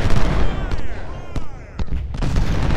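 Cannon fire in the Civil War strategy game Ultimate General: Civil War, loud booming reports and sharp cracks rolling over a dense battle din, with someone speaking over it.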